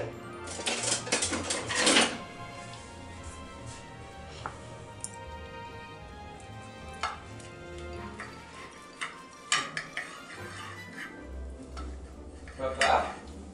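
A knife cuts a vegetable omelette with ripe plantains into portions on a plate, giving a few sharp clinks and scrapes spaced between quiet moments.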